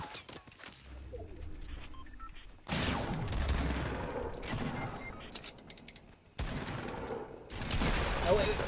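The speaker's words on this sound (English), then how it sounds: "What's he shooting at?" Gunfire rattles in the video game Fortnite in two long bursts of rapid shots, the second starting abruptly after a quieter stretch, with faint voices talking underneath.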